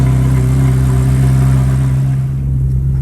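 A 2006 Ferrari F430 with an S-line exhaust and intact catalytic converters runs at a steady, loud idle up close, a deep continuous hum that eases slightly near the end.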